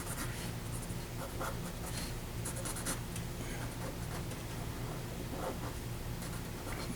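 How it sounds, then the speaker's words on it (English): A pencil sketches details of a climbing figure on paper, a continuous close scratchy scribbling with short strokes and quick pauses. "And then we will draw in some details here."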